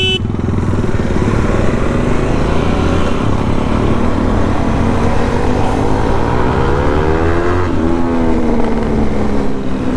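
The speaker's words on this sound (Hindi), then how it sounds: "भाई एग्जॉस्ट नोट सुनाना चालू कर दिया लड़के ने।" A BMW G310GS motorcycle's exhaust note rumbles loud and close, a steady low engine drone with rising rev sweeps near the end, running continuously without talk.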